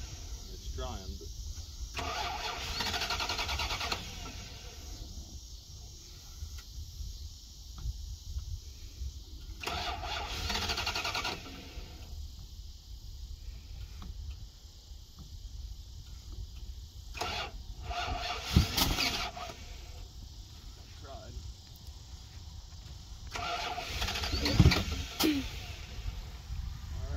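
A 1990 Dodge Ramcharger 2WD running on bad gas cranks repeatedly in several long bursts with pauses between, the starter churning as the engine fails to catch, with talk over it.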